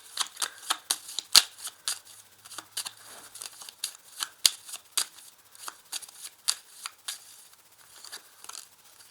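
Tarot cards are shuffled and laid out with a steady run of crisp, close slaps and riffles, one after another, with no voices.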